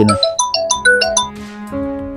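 A phone ringtone plays a loud, bright melodic run of short chiming notes that ends on a sustained, softer tone, with no other sound.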